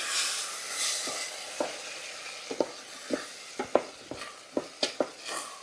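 Spoon scraping and clinking in a pot as tomato sauce is stirred into Mexican rice, a series of sharp knocks under a soft steady sizzle, close and alone.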